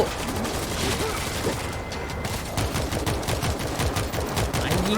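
Dense, sustained automatic gunfire fills a World War Z zombie battle, rapid shots overlapping continuously at close range with a busy, crashing game soundscape behind.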